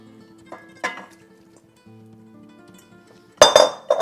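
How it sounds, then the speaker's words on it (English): Shrimp slid into a pot of chili sauce and vegetables for caldo de camarón, giving two short bursts of metallic clinks and clatter from utensils against the pot, with quiet gaps between and no talk. "Now we're gonna go ahead and add them to our chili sauce and our vegetables"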